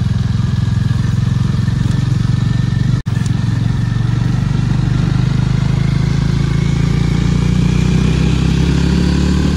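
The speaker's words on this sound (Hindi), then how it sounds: "सो गाइस फुल ताबड़ तोड़ एकदम परफॉर्मेंस टेस्ट हो रहा है मैवरिक का" Hero Mavrick 440 motorcycle being ridden hard on a performance test, a loud, close, steady engine drone with rough low-end pulsing and wind rush, briefly cut by a dropout, no talking.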